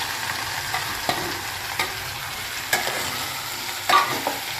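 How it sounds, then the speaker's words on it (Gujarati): Cut okra fries in a pan of hot oil with cumin and asafoetida, giving a steady sizzle broken by a few sharp scrapes and knocks as it is stirred. "આપણે જે કટિંગ કરીને ભીંડો રાખેલો છે તે પણ હવે અંદર ઉમેરી દઈશું"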